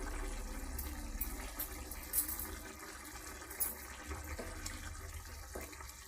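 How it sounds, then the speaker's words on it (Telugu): A full glass of water pours steadily into a curry with chana dal for several seconds with a soft splashing, liquid sound, fairly quiet and close, with a few brief clinks along the way. "ఒక ఫుల్ గ్లాస్ వాటర్ వేస్తాను నేను"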